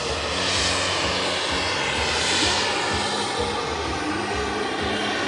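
A model jet aircraft carrying smoke oil and kerosene roars through a flying display at a jet trade show, its loud turbine whine swelling and fading as it passes overhead with steady engine noise throughout.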